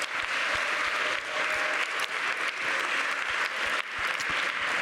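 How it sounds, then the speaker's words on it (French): An auditorium audience at a UNESCO campus water-resource event gives a thunderous ovation, continuous heavy clapping with a few sharper individual claps standing out, sustained and loud from start to finish. "Je vous demande de l'applaudir, mais un tonnerre d'applaudissements"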